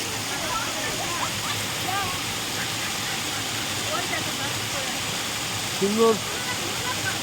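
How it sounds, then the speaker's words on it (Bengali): A tall, narrow waterfall dropping from high up after a walk down a narrow path, a steady, wide rushing hiss that fills the scene throughout, with someone talking briefly over it. "সরু হয়ে জল পড়ছে ওয়াটারফলস, অনেক ওপর থেকে আসছে ওয়াটারফলসটা"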